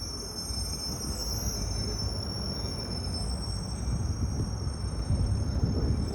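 A TRE commuter train in push-pull configuration with a diesel locomotive runs steadily in the Dallas-Fort Worth area, giving a continuous close rumble with high wheel squeal tones across the whole stretch.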